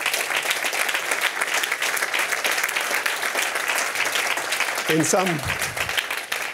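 Audience applause at an award ceremony opening speech, sustained steady clapping from a sizable crowd throughout, with a brief voice emerging near the end.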